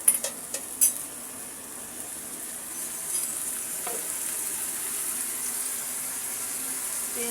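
Oil and salt sizzle in a hot wok while ridge gourd with shrimp is being cooked, a steady bright hiss lasting throughout after a few sharp clinks of utensils at the start, with no talk.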